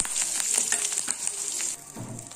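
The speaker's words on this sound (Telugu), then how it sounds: "ఈ పోపుని మనం ఇప్పుడు మన టమాటా బజ్జీలో వేసేద్దాం" Curry leaves crackling in hot oil as a tempering, poured into a tomato bajji: a dense, close sizzle and spitting hiss that drops sharply quieter near the end.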